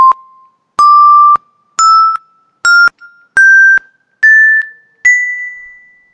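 Seven bright, clean synthesized xylophone notes from a Flutter xylophone app, tapped one after another and rising in pitch with each key, loud and alone with short gaps between.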